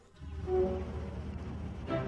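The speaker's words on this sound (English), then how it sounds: ""What's that noise?" "It's the bees,"" Bees buzzing around hives kept by a vicar, a soft continuous low drone with steady hum close by and no voices.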